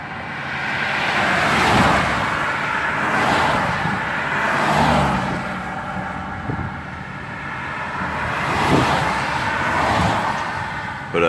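A car turns around in a U-turn on a roadway, its engine a steady moderate drone that swells and eases in a few broad waves as it manoeuvres nearby, with no talk.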